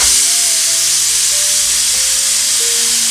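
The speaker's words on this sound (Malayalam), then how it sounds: "ഒരു ബ്രൗൺ നിറാവുന്ന വരെ നമ്മൾ ഇതിങ്ങനെ ഇളക്കി കൊടുക്കണം കേട്ടോ" Food frying in coconut oil and stirred until brown gives a loud, continuous sizzle with a dense hiss, while faint utensil scrapes and tones drift underneath.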